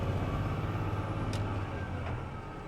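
An 18-speed truck's engine drones steadily while skip-shifting from 6th direct to 7th direct, a low continuous rumble heard from inside the cab with a slight drop in level partway through.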